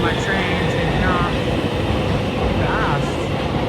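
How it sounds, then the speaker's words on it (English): Bucharest metro train pulling out of the station, a steady loud rumble of wheels and rails with faint whining tones rising briefly, filling the short stretch without pause. "There's my train taking off"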